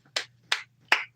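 Three sharp, dry hand claps in quick succession, evenly spaced and close, each a crisp isolated smack over a faint low hum.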